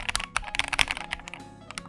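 Quick bursts of typing on a Lychee G80 mechanical keyboard with KTT Rose switches, close and clear with a deeper, thocky clack, briefly slowing before resuming, with no voices.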